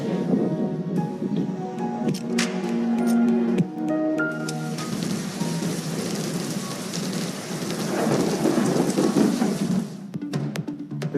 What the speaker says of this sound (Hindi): इस्लामाबाद और गिरदोनवाब में वक्फे वक्फे से बारिश का सिलसिला जारी।